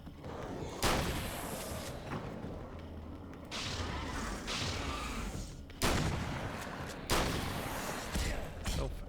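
Shotgun blasts in the video game Alan Wake's American Nightmare, several heavy booming shots spaced a few seconds apart, each a sharp loud crack with a rumbling tail, over a muffled game soundscape.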